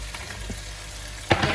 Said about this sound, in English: After that's been frying off a few minutes, add in half the pack of mangetout and then also your carrots.